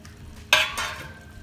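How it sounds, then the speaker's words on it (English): Mushrooms frying in butter on high heat, a quick scrape of stirring that sets off a short, bright burst of sizzle, brief and fairly close. "So we cook the mushrooms."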